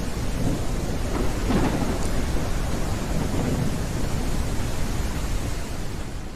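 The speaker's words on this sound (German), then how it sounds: "das ist aber ein richtiger Regenguss gerade" Heavy downpour in the survival game Mist Survival, a dense, constant hiss of rain with a low rumbling undertone, loud and unbroken throughout.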